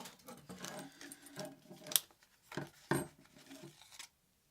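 Scissors snip and crinkle through plastic packaging holding a drywall circle cutter, several sharp cuts and rustles in an irregular rhythm, close and fairly quiet, ending in silence.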